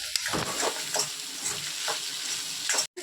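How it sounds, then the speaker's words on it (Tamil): Coarsely ground coconut stirred through frying fish in a hot pan, a continuous close sizzle punctuated by rhythmic scraping strokes of the spoon across the pan, with no talk. "தேங்காவை போட்டு நல்லா உதிரியாக கிளறி வரணும்."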